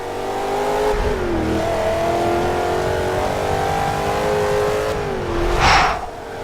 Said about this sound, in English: leave you here with the sounds of it for about 20 seconds